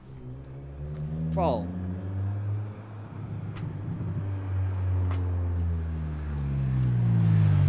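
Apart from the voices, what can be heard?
Honda car engine revving, accelerating in first gear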